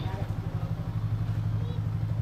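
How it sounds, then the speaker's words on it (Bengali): A motorcycle engine idles with a steady low chug throughout, close by, with faint background noise on top. "চলো এবার বাইকটাকে পার্কিং করে রেখে দিই।"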